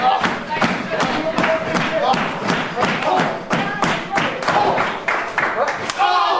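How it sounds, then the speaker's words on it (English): A wrestling crowd at an RWA show claps in unison to back a wrestler, sharp rhythmic claps and thuds about twice a second, loud and close, with a commentator talking over them. "Crowd getting behind Cruz here."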